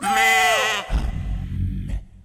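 A goat bleats loudly and close in a long wavering cry, then gives way to low rumbling noise and a faint voice.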